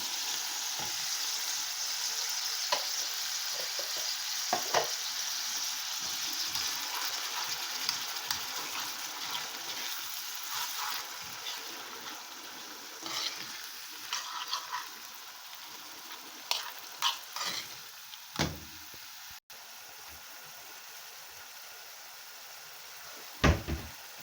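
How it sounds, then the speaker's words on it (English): Tomato puree stirred into a hot pot for Jamaican-style brown stew pork, giving a steady close sizzle and fry with scattered spoon scrapes and clinks, a few sharper knocks near the end. "I'm gonna add some tomato puree in."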